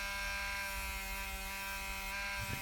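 A polishing wheel buffs brass on a custom knife handle face, giving a steady, close electric whine with a constant hum and faint rubbing, running alone throughout with a brief bump of contact near the end.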